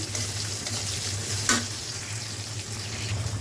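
A koi fish and cauliflower curry simmers in a pan while its gravy reduces, giving a steady, even sizzle and bubble close by, with one brief clink partway through and no voices.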